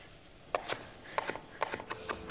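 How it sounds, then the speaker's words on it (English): A knife chops fresh parsley on a cutting board in a home kitchen, several quick clustered knocks and scrapes at close range with short pauses between bursts, no talking. "Okay, that's the chopped parsley."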